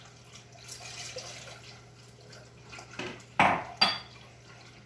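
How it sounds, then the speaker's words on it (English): A whisk works through milk in a pot for scalloped potatoes, mostly soft and quiet, then two sharp metallic clanks of the whisk against the pot ring out close together near the end. "I'm stirring it with a whisk to get all these lumps out of"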